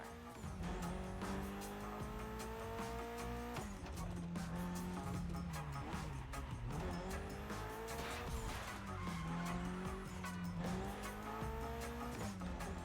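A Porsche 911 Turbo races in The Crew Motorfest, its engine revving up and down through gear changes while tires squeal and skid repeatedly, loud and continuous with no voices.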